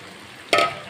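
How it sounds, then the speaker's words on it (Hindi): Mashed potatoes drop into fried masala in a pan for aloo bharta, a short, sharp sizzling burst halfway through that quickly fades back to a quiet hiss. "अब हमने जो आलू मैश करके रखे थे वो इसमें शामिल कर देते हैं।"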